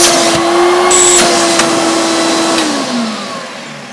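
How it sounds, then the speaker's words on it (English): An Electrolux Power System Z1710 upright vacuum cleaner runs loud and close with a steady low-pitched motor drone and suction through the hose, its tone shifting and dropping slightly toward the end. "Let's just check the suction through the hose."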